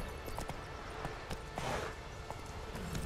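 Hooves of Roach, the horse in The Witcher 3 video game, gallop in a steady, regular clopping rhythm at close range against constant background game sound.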